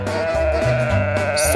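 A farm sheep bleats repeatedly in close, loud, drawn-out calls over a steady layer of background music, with no voices.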